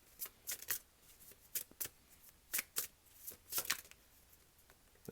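Tarot cards being shuffled and drawn, a run of crisp, brief riffling and slapping bursts in an irregular rhythm, close and fairly quiet with no voices.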